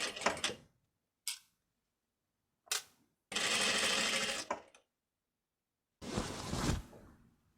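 A sewing machine stitching a Regency-style dress runs in short separate bursts, two longer runs of close, fast mechanical whirring set between brief clicks and pauses of silence.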